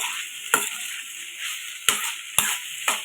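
Salted raw banana pieces mixed and fried in a pan without water, a steady oily hiss with four sharp spatula scrapes at irregular intervals, close and clear, with no talking.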